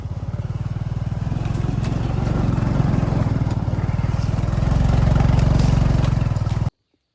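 A motorcycle idles steadily on a jungle track for nearly seven seconds, its low engine pulse loud and close, with a faint murmur of voices and forest sound behind, then the sound cuts off abruptly.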